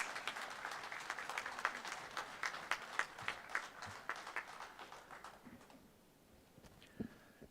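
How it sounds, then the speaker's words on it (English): An audience at a business summit applauds the arriving Chief Minister, with distinct claps in a full, fairly distant patter that swells and then thins out near the end, leaving a few scattered claps. "I would request all of you to kindly welcome him with a big round of applause"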